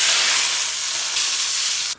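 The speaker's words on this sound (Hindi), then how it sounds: "ये गरम गरम घी हमने धनिए के ऊपर," Hot desi ghee poured over coriander and green chilies for a dal tadka gives a loud, steady hiss that fills the whole clip and then cuts off abruptly near the end.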